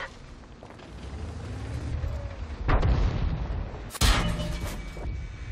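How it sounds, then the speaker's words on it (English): Tank cannon fire in World of Tanks, two heavy booming blasts with a rumbling tail standing out from a low engine drone. "Looks like someone took a shot at me."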